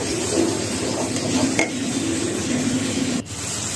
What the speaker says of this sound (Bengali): দিয়ে সুন্দর করে নেড়ে চেড়ে কষাবো মশলাটা।